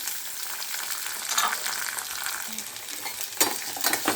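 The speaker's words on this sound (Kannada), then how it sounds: "ಇವಾಗ ಫ್ರೈ ಮಾಡ್ಕೊತಾ ಇದ್ದೀನಿ ಟೊಮೊಟೊ ಮತ್ತು ಆನಿಯನ್ನು" Tomato and onion with chillies and garlic fry together in a pan, a dense, steady sizzle heard close up, with a few louder scraping stirs near the end and no talking.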